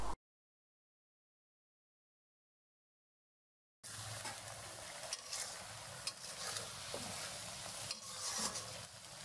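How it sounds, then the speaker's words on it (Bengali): Cooked shrimp being stirred into a taro stolon curry in a pan, heard as a continuous low sizzle with scraping stirs after several seconds of silence, fairly faint and close. "এবার সেগুলো দিয়ে এখানে নাড়াচাড়া করে মিশিয়ে নেব।"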